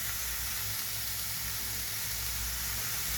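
Vegetables fry in ginger-garlic paste in a hot pan for momo filling, a loud, constant sizzling hiss with no breaks, close to the microphone and without talk.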